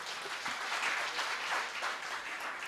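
Applause from the crowd at a public kavi sammelan poetry gathering, a steady, dense wash of clapping that holds at a moderate level throughout, heard from some distance.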